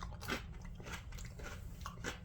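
Close crunchy bites and chewing of Ore-Ida Zesty Twirls french fries dipped in Heinz Simply ketchup, with repeated soft crunches over steady low background noise and no talk.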